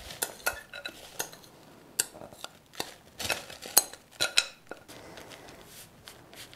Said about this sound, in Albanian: Dhe me ndihmën e lugës e përapim në të gjithë tavën.